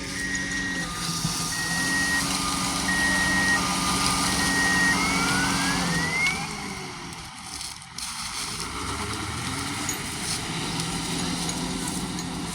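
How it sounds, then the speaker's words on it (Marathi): A sugarcane-hauling truck's reverse alarm beeps steadily in a regular rhythm over a rumbling engine, then the beeping stops while the engine keeps idling. "आता इथं रिवसनं गाडी लावायची आपल्याला ह्या जागेवर इथं"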